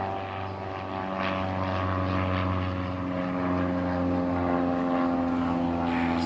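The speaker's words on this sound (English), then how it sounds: "Got an airplane overhead." A propeller airplane passes overhead above a late-May garden, a steady droning hum that holds at moderate loudness throughout, with no talking.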